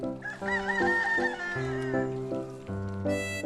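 Free-range native Korean chickens on a farm clucking and crowing loudly and close by, a layered cluster of calls filling the few seconds without pause.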